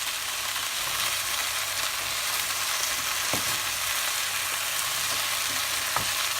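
Minestrone soup, a vegan recipe, stirred in a pot over a steady bubbling and sizzling bed of noise, with a couple of soft spoon scrapes against the pot and no talk.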